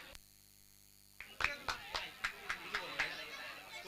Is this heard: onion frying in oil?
no